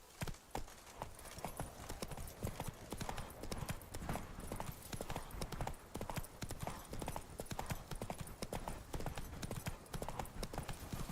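Roach the horse from The Witcher 3 trots along in a rapid, dense run of clip-clopping hoofbeats, sharp and close, carrying through the whole span with no talking.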